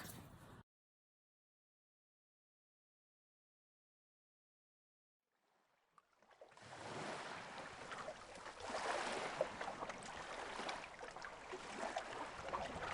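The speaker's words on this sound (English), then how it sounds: "Waves crash onto the rocky point. sending sea spray flying back at me." Waves crash onto a rocky point on a windswept coast, a broad rushing surge that swells up after several seconds of silence and keeps roaring on, loud and close, with no voices.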